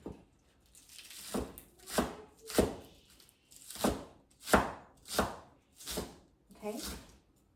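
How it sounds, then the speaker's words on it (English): A knife chops green onions and garlic on a board while beef and broccoli are being prepared. About eight crisp, evenly spaced thuds sound close and clear, with no other sound between them. "next, I'm going to chop like a green onions and also garlic"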